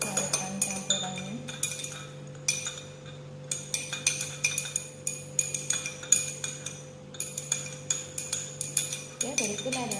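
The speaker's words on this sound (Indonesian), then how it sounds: "Kemudian kita aduk biar homogen, cairkan campurannya." A liquid mixture of methanol and acetic acid being stirred in lab glassware, with rapid, regular clinks of a stirring rod against glass close by, a steady hum underneath and a voice speaking near the end.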